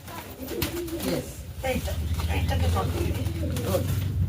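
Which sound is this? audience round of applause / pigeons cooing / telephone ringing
pigeons cooing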